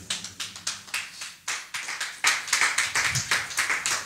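A church congregation claps and applauds in praise during a worship service, a steady run of bright hand claps sustained and growing fuller toward the end, with no talk over it.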